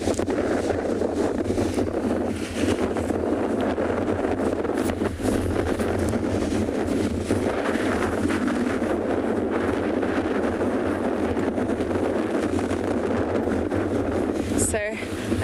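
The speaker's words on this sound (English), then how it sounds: "Unfortunately, it is super windy." Strong wind buffets the microphone on a beach, a constant loud rumbling roar with gusting bursts, while a person talks underneath at times.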